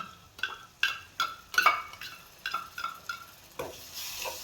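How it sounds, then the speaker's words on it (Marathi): Mutton masala fries and is stirred in a pan, with about ten distinct scraping strokes, each followed by a soft sizzle. The sound is close and moderately loud, with no talking. "हे मसाले चांगले फ्राय करून घेऊन त्याच्यामध्ये आपण काळं वाटण टाकू"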